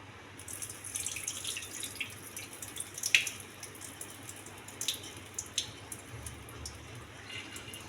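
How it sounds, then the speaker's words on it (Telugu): Soaked millet rice being rinsed in a pot, with water dripping and splashing in soft irregular bursts and a few sharper drops, close by and fairly quiet, with no talk. "శుభ్రంగా కడిగి వాటర్ పారబోయాలి"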